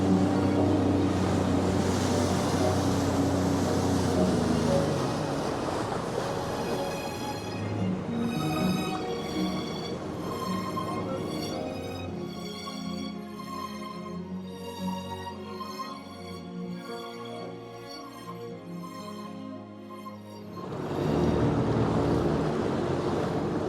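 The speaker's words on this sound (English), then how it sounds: "Get a shot driving the sailboat." A sailboat moving through open ocean waves in the Canadian Caribbean, with steady wash and surf and wind buffeting the microphone, fairly loud and continuous throughout, with no talking.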